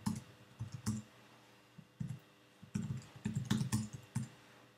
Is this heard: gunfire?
no